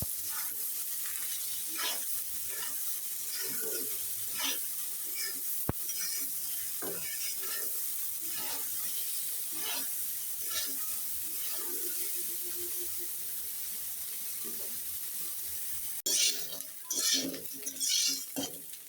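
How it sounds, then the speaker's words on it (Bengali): Soya chunks fry in oil in a pan, a steady broad sizzle running throughout while a utensil scrapes and stirs in irregular clinks and scrapes, with a brief louder burst of stirring near the end. "আমি সয়াবিনটা ভালোভাবে ভেজে নিয়েছি।"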